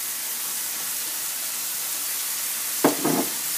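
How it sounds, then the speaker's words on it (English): Mushrooms sauté in a pan with onions and zucchini, making a steady, loud hiss of frying throughout, with a brief pair of clunks near the end as the pan is stirred. "we're going to stick the mushrooms into the pan"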